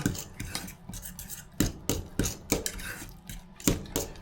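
A spoon stirs mushroom mashed potatoes in a pot, making close, repeated scraping clinks and soft knocks in an uneven rhythm, with no voices.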